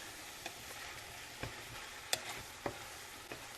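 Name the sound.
stirring pasta primavera vegetables in a pan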